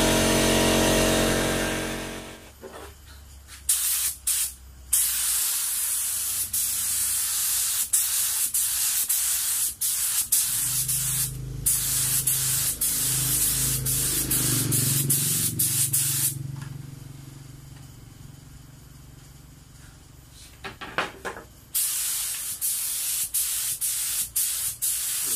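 Spray gun painting a Kawasaki K1 motorcycle cover set, a steady loud hiss in long bursts broken by short pauses, with a quieter stretch in the middle before the spraying resumes.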